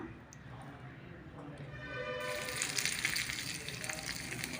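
Chopped onion hitting hot oil in a pan for a mini prawn rice dish, a quiet hiss first, then a sudden, brighter frying sizzle that swells and holds to the end.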